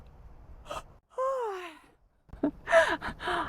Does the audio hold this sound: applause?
no